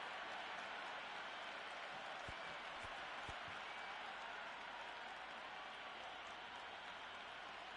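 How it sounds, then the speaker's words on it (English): A dense, distant roar of a large cricket stadium crowd before the first ball of a CSK vs MI match, constant and even, with a few faint claps and thuds standing out. "The crowd are making a heck of a lot of noise even before the first ball's been bowled"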